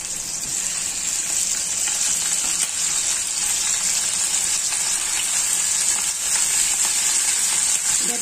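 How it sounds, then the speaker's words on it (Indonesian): Pieces of chicken fry gently in a pan over a low flame, giving a dense, even sizzle that stays close and steady throughout. No one speaks. "Jadi goreng ayam itu pelan-pelan teman-teman, juga apinya jangan terlalu besar, jadi pelan-pelan saja gorengnya."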